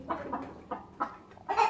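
Chickens on a rural Vietnamese farm cluck in short, soft bursts, about five quick calls close by in a quiet morning setting.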